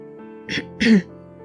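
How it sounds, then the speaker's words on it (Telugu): A person clears their throat in two short, close, fairly loud bursts, the second longer and more voiced, with quiet background between them. "గొంతు సవరించుకొని"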